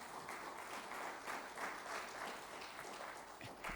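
An audience at a fellowship convocation ceremony applauds, a steady, dense wash of many hands clapping that carries on throughout at a moderate distance.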